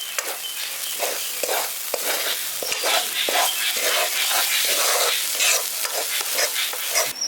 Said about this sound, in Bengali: গুঁড়ো মশলাগুলো দিয়ে দেওয়ার পর ভালো করে এটাকে মিশিয়ে দিচ্ছি